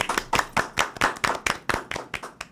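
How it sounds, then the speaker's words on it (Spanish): A small studio audience claps at the opening of a Spanish-language talk show, about ten distinct, evenly spaced hand claps over a couple of seconds, close and clear with no talk. "Un aplauso."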